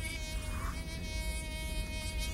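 A housefly buzzes continuously in a steady, faint, droning hum with no pauses and no voices, set aboard a spaceship.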